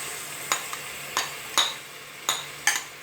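Ginger and garlic paste frying in a pan for daal mash, a low sizzle broken by six sharp spatula scrapes and clinks at an uneven pace, close and fairly quiet with no talk.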